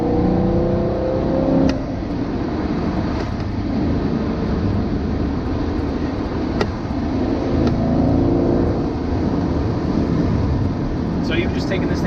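A 2018 Chevrolet Camaro SS 1LE V8 engine drones and revs steadily while driving, a loud continuous cabin rumble with occupants talking over it.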